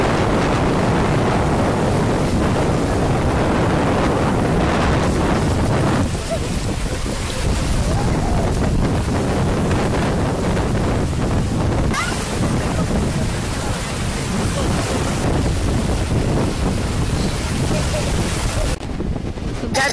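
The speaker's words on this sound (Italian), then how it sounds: "primo giorno di mare, mare mosso, vento." Strong wind buffets the microphone on a beach during a rough-sea summer day, with a constant loud roar of gusts and surf close by, and voices faintly beneath.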